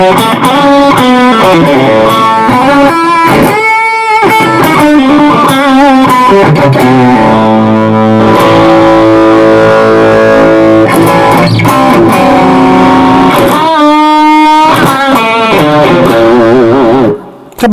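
Loud electric guitar with overdriven amp distortion from the amp alone, no boost pedal, sustained chords and riffs ringing out continuously, played alone without any talking.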